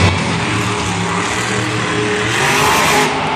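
El Toro Loco monster truck roaring around a Monster Jam stadium arena in San Diego, a loud continuous engine drone with revving surges and crowd wash throughout.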